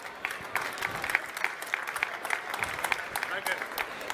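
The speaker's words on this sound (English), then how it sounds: "Give it a big round of applause." An audience claps for a quiz winner at an open-space stage program at the Hannover Messe trade fair. The applause is steady, with crisp clapping throughout and some voices mixed underneath.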